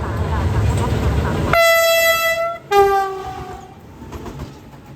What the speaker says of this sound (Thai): รถธรรมดาขบวนที่ 212 212 จากตะพานหิน เข้าบางซื่อทางที่ 4 ครับ